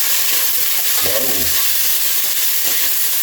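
Tomatoes sautéing in a pan of pork sinigang, a loud constant sizzle with stirring scrapes and a brief clatter partway through, no talking.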